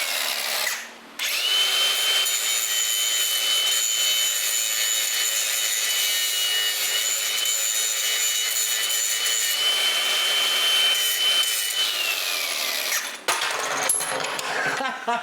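Power grinder cutting through the pins on a Triumph Tiger motorcycle during a service, a loud continuous high-pitched whine lasting about eleven seconds that stops abruptly, followed by a few clanks and rattles.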